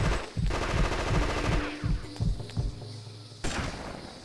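Shock pistol fire in the Fear Effect video game, a run of rapid rhythmic electric pulses that thump loudly and then fade out, followed by one final sharp burst.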